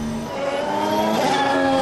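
2014 Formula 1 car with a turbocharged V6 engine and an energy recovery system, a loud, close, high-pitched engine whine rising steadily in pitch as it accelerates, with no voices.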